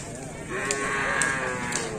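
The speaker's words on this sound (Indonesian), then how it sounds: "Kita ke sapi yang lain teman-teman." A cow mooing at a farm stall among other cattle, a sustained low bellow rising through the clip, moderately loud and close, with no talk over it.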